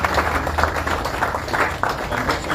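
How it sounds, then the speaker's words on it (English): An audience standing at a security task force event claps for itself, a dense, steady patter of many hands close by, sustained for a couple of seconds without pause. "And let us clap for ourselves."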